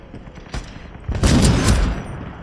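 A single sharp gunshot in the video game Ironsight, then a loud, dense burst of rapid gunfire that trails off into lingering noise.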